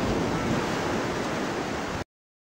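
Ocean waves washing onto the shore at Bauang beach, a broad, steady roar of surf with wind, close and fairly loud, running about two seconds before cutting to silence.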